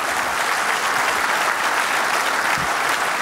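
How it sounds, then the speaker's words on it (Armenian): A studio audience at a comedy show final claps loudly and steadily in one unbroken wash of applause. "եկեք ծափարենք"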